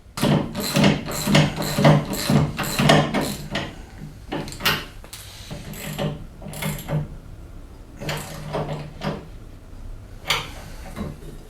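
Wrench work tightening a bolt on a dune buggy's steering, a run of quick metallic ratcheting clicks in bursts with short pauses, close and moderately loud with no talking.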